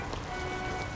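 Steady rain patters on a surface, a soft continuous hiss with faint drops throughout.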